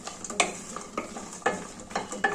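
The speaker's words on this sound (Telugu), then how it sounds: "ముందు ఆయిల్ వేసుకొని మిరపకాయలు వేయించుకొని మిక్సీ పట్టుకోవాలి" Chillies frying in oil, stirred with sharp periodic scrapes and taps of a utensil against the pan over a soft steady sizzle, close up and with no talking.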